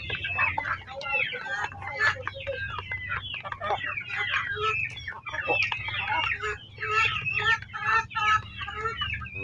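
Caged backyard chickens cluck and squawk in a busy, overlapping chorus that goes on the whole time. It is close and loud, with a crow now and then and a low hum underneath.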